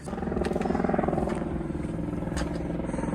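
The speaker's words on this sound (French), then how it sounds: "Foutus hélicos." A helicopter flies overhead above a rocky hiking trail in the Cirque de Cilaos on La Réunion, with a steady rhythmic rotor chop swelling and fading at moderate distance.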